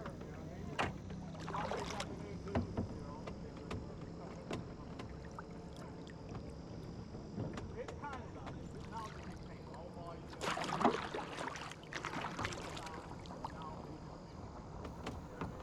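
Quiet kayak paddle strokes and water sloshing around the small boat, with a few louder splashes and gentle wind in the background.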